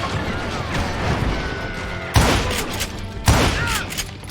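Two sharp, loud gunshots in the Western shooter Call of Juarez: Gunslinger, spaced about a second apart over a busy game background of battle noise and rumble.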